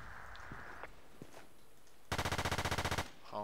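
Gunfire on the Great Wall map of the Battlefield 2 video game: a loud, rapid burst of about a dozen automatic shots, preceded by faint scattered clicks and movement in a quiet scene.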